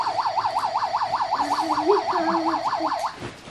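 Toy emergency vehicle with a flashing light plays a wailing siren in a rapid, steady up-and-down rhythm, close and fairly loud, with faint background rustling and no speech.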